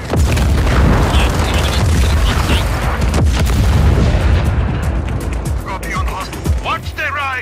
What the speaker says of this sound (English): The cannon is all yours